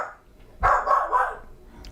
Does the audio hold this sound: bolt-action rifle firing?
no